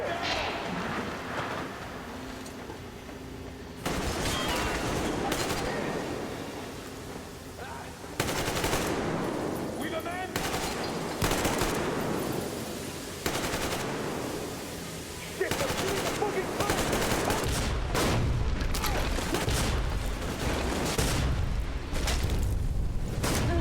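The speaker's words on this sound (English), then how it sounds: "Maybe let's not shoot at the explosive barrels." Gunfire and exploding barrels in the video game Metro Exodus, with sustained automatic bursts and heavy booms rolling over one another for a long stretch, loud and dense, while a voice talks underneath.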